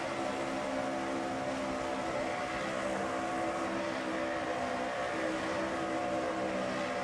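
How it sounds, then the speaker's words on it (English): A race car engine roars continuously in a NASCAR-style racing video game, heard from the in-car camera during the Winston Open all-star race. The engine drones loud and steady throughout, with no talk. "You're riding with Orman as he takes the lead in turn number 1"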